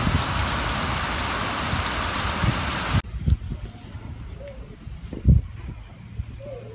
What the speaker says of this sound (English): It's just heavy rain now.